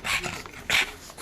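A dog pants close to the microphone in quick, breathy bursts, with two louder huffs and some soft whimpering sounds in between, and no talking over it.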